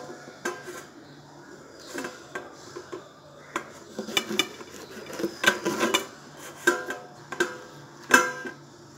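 A knife taps repeatedly against a cutting board in an uneven chopping rhythm while cutting citron into small pieces for pickle, close and clear, with occasional clinks of kitchenware.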